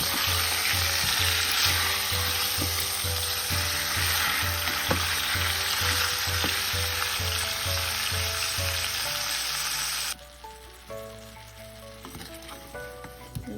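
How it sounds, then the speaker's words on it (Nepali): Chicken pieces sizzle and fry in a hot pan with salt while being stirred, a steady loud crackling hiss with rhythmic scraping strokes, then the sizzle drops sharply near the end as the stirring stops. "अब यसलाई त्यसरी चलाउँदै एकछिन यसरी भुट्दै पकाउनुपर्छ"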